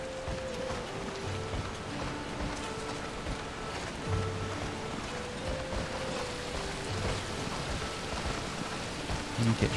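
Steady rushing waterfall from Final Fantasy XIV Stormblood, a constant broadband wash with faint game music tones layered over it.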